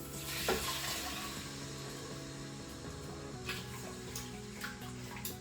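Stock poured into chana masala in a pressure cooker and stirred, a soft steady sizzle and liquid wash with a few light scrapes, fairly quiet and without talk.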